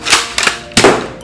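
An S570 foam dart blaster fed from a 40-dart drum fires in semi-auto mode, giving three sharp, close snapping pops at uneven intervals.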